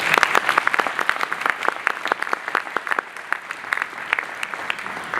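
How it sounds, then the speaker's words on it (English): Conference keynote audience giving a round of applause, a steady spread of individual claps at moderate distance, sharp and fairly sparse, with no talking over it. "let's just give them a round of applause."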